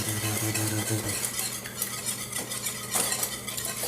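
Eggs whisked for an omelette, a busy, close rattling of whisk against bowl that runs steadily throughout, with a low hum underneath and no clear talk.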